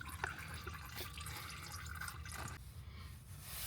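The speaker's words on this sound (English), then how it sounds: "After most of the oil is dripped out and drained out, it'll become a drip." Engine oil trickles and drips steadily into a drain pan during an oil change on a Duramax LML diesel, a continuous wet pattering with a low hum underneath.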